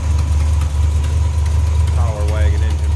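A stock 400 V8 in a 1976 Dodge Power Wagon 200 regular cab idles smoothly and steadily, a loud, close low rumble with a brief voice-like murmur partway through.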